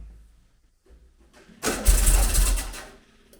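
A Volkswagen Beetle engine cranks briefly and catches, bursting into a loud, rough run up close for about a second before settling and fading, with no voices over it.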